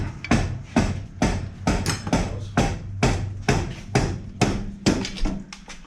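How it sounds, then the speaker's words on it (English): A dead blow hammer strikes a Camaro Z28 rear axle again and again, making loud, close, dull metallic thuds at an uneven, fairly quick pace with no talking. "Or a dead blow on the face of it right here."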